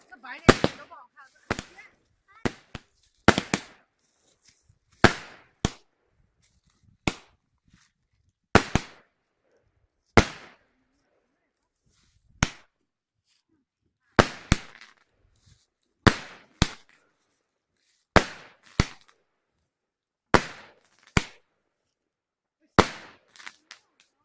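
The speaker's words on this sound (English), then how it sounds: "they light the fireworks as a farewell" Firecrackers set off in Hengyang, China, at Chinese New Year as a farewell to the deceased: sharp, loud bangs in irregular bursts and single cracks over about 24 seconds, with people talking between them.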